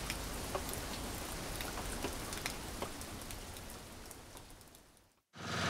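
Steady rain falling outdoors in the UK, a dense hiss of drops pattering on surfaces with occasional sharper drips, holding constant before cutting off abruptly near the end.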